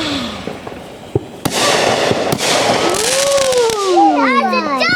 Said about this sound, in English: That's a double firework.